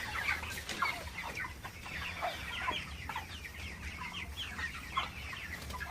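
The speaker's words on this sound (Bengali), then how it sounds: "তো সবই বড় সাইজের মোরগ, আর এখানে একটাও মুরগি নাই, সব মুরগি মোরগ।" A flock of large broiler roosters in a farm shed keeps up a steady, overlapping clucking, with individual calls popping out of a busy chorus from start to finish and no talk.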